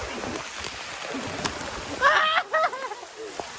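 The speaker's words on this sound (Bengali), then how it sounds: "ওই বৃষ্টি নামছে রে আজকে।" Rain falls steadily outdoors, a soft even patter throughout, with voices talking briefly over it partway through.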